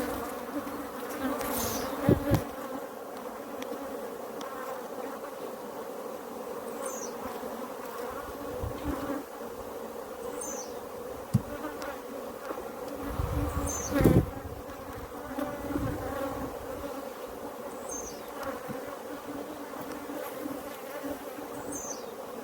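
Africanized bees at a hive frame, a continuous close buzzing swarm with individual bees flying past now and then and a few soft handling knocks.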